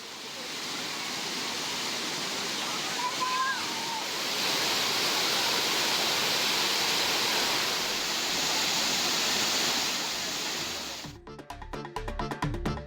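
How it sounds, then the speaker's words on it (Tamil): Kumbakkarai waterfall in full monsoon flow, a steady, loud broadband roar of gushing water that holds for about eleven seconds, with a faint high whistle-like tone partway through, before giving way to a different, choppier sound at the end. "அருவியின் நீர்பிடிப்பு பகுதிகளில் பெய்த பருவமழையால் கும்பக்கரை அருவியில் நீர் ஆர்ப்பரித்து கொட்டி வருகிறது"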